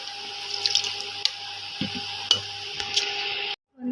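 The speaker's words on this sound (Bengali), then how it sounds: "এবার জল দিয়ে দেবো" Water pours in a steady stream for about three and a half seconds into a cooking pan of Bengali soybean curry, with a few small clinks, then stops abruptly.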